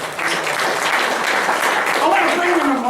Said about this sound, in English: Let's clap for Carol.